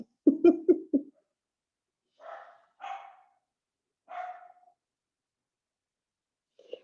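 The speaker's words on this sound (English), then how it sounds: "I don't know if you can hear my dogs" Dogs romp and wrestle just outside a room, giving a few close, sharp barks early on, then several scattered, more muffled yips and barks separated by quiet gaps.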